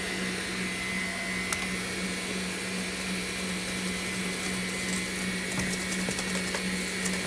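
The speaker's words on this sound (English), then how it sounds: "Let's try to whisk it here" Butter is whisked into a mixture with an electric mixer for a tropical fruit compote dish, a steady loud motor whir with a constant hum throughout and occasional faint clicks.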